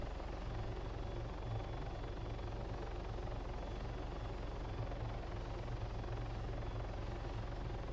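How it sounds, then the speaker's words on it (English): A helicopter in the video game DayZ, flying over the Livonia map, gives a steady, dense rotor and engine drone that runs unbroken and fairly loud throughout. "Alright, let me try to right the helicopter."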